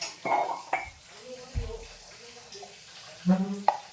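Dishes are washed by hand with water drawn from a bucket, giving a few soft splashes and clinks of plates, faint and intermittent, while a voice speaks lightly in the background.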